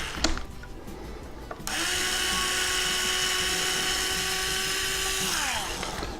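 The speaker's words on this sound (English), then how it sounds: "Now I use the 1/8 inch bit, and I just drill just a little bit through the wood." A power drill with a 1/8 inch bit bores a short way into wood while assembling a QuadLugs modified H 540 frame kit, a steady high whine running for several seconds after a brief spin-up, close and loud.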